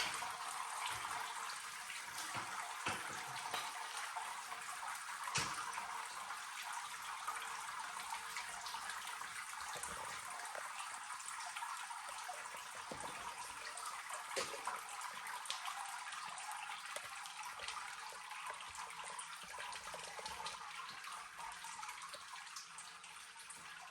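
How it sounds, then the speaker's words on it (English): Wort trickling and splashing out of a Brewtools B80Pro during mashing, a steady, continuous close-up flow of liquid with small splashes, heard alone. "I break the surface tension and the wort starts to trickle out"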